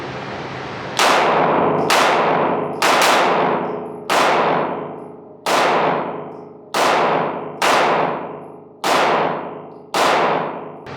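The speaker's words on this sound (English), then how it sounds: "another 10 rounds with the Walther" Gunshots from a Walther PDP Compact pistol at a range, heard as ten loud, sharp reports fired one at a time at a steady pace about a second apart, each with a ringing decay, and no talking.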